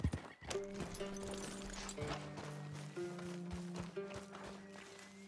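Horse hooves pound in a steady galloping clip-clop in Red Dead Redemption 2, close and continuous with a tonal musical bed underneath.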